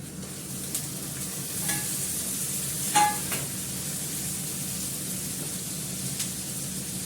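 Chicken added to a hot pan, frying with a steady hissing sizzle throughout, a few stirring scrapes and clinks of a utensil around the middle, close and fairly loud.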